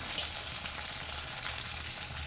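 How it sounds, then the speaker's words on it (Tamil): Tomato sautés in oil in a pan, giving a steady, even hiss of frying at moderate volume with no other sounds. "இந்த எண்ணெயிலே நம்ம விட்டுருக்க எண்ணெயிலே இதெல்லாம் கொஞ்சம் வதங்கி வேகணும்."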